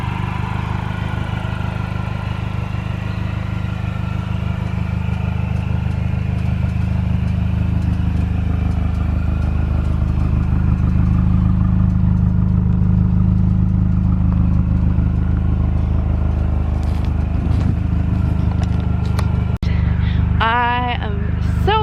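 A Mini Cooper S R53 fitted with a 17% reduction supercharger pulley drones steadily, with a sustained engine tone and whine heard from inside the car while a person talks.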